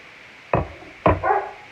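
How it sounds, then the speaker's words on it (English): A dog barks twice, sharp and close, with a brief half-second gap between the barks and a short trailing yelp after the second. "Excuse my dog."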